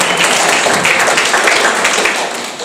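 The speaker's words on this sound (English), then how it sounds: "Give another clap, well done" Broadband clapping from a church congregation, a dense steady patter of many hands held at even loudness for a couple of seconds before easing slightly at the end.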